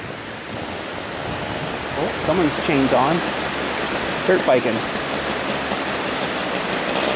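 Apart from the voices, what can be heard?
flowing river water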